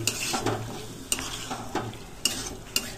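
Boiled chickpeas are stirred with spices in a hot pan, a soft sizzle underneath with several sharp scraping strokes of a spoon against the pan, close and fairly loud.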